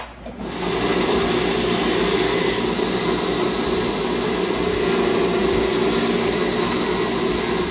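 A belt grinder running a 100 grit belt grinds a knife blade, producing a loud, steady, close roar and whine that holds unbroken throughout with no speech.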